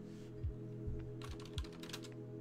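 Fingers type on a computer keyboard, first a few soft taps, then a quick run of crisp clicking keystrokes close to the microphone over a low electronic hum.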